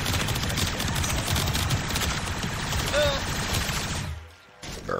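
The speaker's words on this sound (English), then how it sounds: "My companion is shooting them." Sustained rapid gunfire from a companion fighting enemies in Warframe, loud and continuous before cutting out briefly near the end and resuming.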